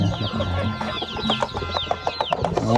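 Chickens and a rooster cluck in a rural Lao village, with repeated close clucks and calls over a constant background hum.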